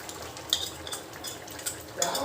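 A spoon stirs masala mix into tripe curry in a metal pot, giving light scraping and clinking strokes with a faint sizzle underneath, close and fairly quiet, no voices.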